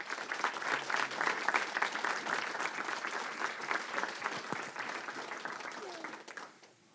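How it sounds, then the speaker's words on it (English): Attendees at a school board of education meeting applaud in a sustained burst of many hands clapping, fairly faint and distant, tapering off near the end with some voices mixed in. "Please join us in applauding Mr. Matt Kodowitz for his outstanding contri"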